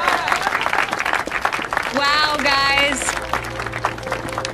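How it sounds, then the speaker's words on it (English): Round of applause from a small contest audience for a fourth-place team, brief clapping mixed with people talking and exclaiming, a short musical flourish rising over it midway. "Give them a round of applause."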